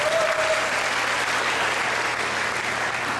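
A church congregation claps together in a steady burst of applause, even and sustained, heard from within the room.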